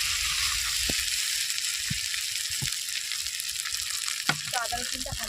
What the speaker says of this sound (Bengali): তো আদা রসুনটা ভাজা ভাজা হয়ে আসছে